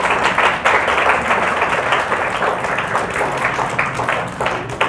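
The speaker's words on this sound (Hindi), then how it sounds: "तो इसके लिए ज़ोरदार तालियां हो जाए।" Sustained applause from a school audience at an exam results announcement, dense steady clapping that fills the whole stretch without a break.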